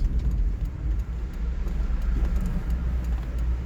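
A Daihatsu Copen 1.3 16v Sport downshifting through its gears, the engine note rumbling low and steady from inside the cabin with faint road noise.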